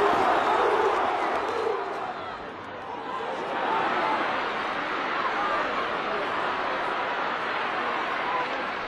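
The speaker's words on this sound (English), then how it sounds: "the Offaly crowd come to life" Offaly hurling crowd at Portlaoise cheering after a goal by Bergen that levels the match, a dense, sustained roar of many voices filling the whole stretch, swelling again midway.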